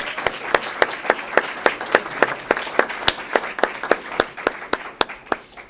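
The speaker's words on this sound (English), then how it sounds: "Audience, let's give them a round of applause." Applause at a city council meeting in Auburn, Washington, with sharp, distinct hand claps close by over a softer crowd clapping, continuing steadily and thinning slightly at the end.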